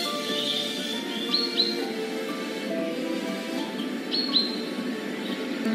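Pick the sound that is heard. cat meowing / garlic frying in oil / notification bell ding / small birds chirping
small birds chirping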